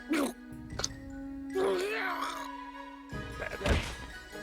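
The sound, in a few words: heavy thud of Decompompo's body hitting the ground, from the video game Utawarerumono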